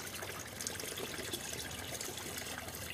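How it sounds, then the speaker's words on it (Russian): Water poured from a canister at an outdoor spring, a steady continuous splashing stream, close and fairly loud, with no voices. "Наливать тоже неудобно, с канистры уже."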